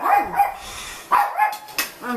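A pet dog barking angrily indoors, a few sharp close barks in quick bursts with whimpering yips between them.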